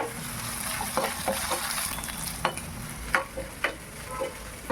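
Curry leaves and aromatics frying in a pan for Sunday-special fish curry, a continuous close sizzle with occasional sharp utensil clinks and stirring scrapes, no speech.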